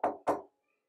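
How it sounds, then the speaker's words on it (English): Two sharp knocks on wood in quick succession, close and fairly loud, each with a short hollow decay, then silence. "I'm going to knock on wood"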